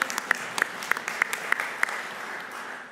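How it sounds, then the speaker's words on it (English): An audience at a Pennsylvania AFL-CIO labor conference claps in sparse, evenly spaced claps at moderate volume that fade out after about two seconds. "thank you for clapping for the labor law compliance folks."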